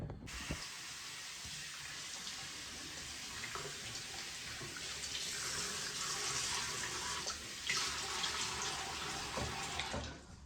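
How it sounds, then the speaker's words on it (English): Steady hissing stream of tap water runs into a bathroom sink for face washing, a continuous close rush with occasional splashes as hands move through it, no voices. "I'm gonna go ahead and wash my face"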